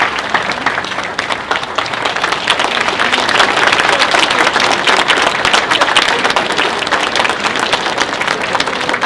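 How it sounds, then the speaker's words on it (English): Sustained, dense applause from a large audience at a white coat ceremony, loud and steady throughout with no gaps, the claps blending into a continuous wash. "I want you to give them a round of applause."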